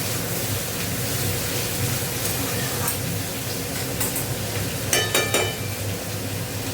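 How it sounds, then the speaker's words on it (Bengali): Pieces of bitter gourd, potato and pumpkin fry in a pan, giving a steady, soft hiss of sizzling oil throughout, with a few faint clinks and stirring scrapes near the end. "আর এখানে দেখো সবজিটাও ভাজা ভাজা হচ্ছে।"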